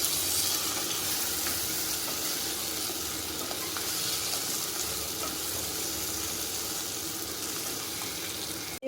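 Chilies frying in oil in a pan for a chicken curry, a steady dense sizzle with occasional stirring scrapes, close and continuous.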